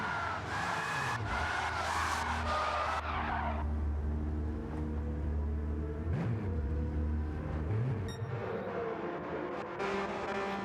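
Porsche Cup car in a racing video game spinning on wet curbs at the Red Bull Ring, with loud tyre squeal and skidding over a droning engine, then the engine wavering and revving as the car spins again.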